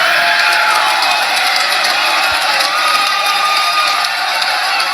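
A large crowd at a Biafra gathering cheers and shouts in a loud, continuous roar, with whoops rising over the dense, sustained noise.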